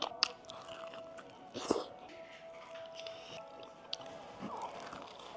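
Close, quiet chewing and biting of a cheese-crusted Chipotle burrito in a mukbang, with soft squishy mouth sounds and a few sharper crunchy bites spaced irregularly over a faint background.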